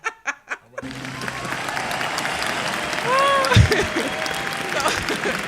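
Studio audience applause on an indie music talk show, a few sharp claps first and then sustained clapping with a whoop and some laughter mixed in.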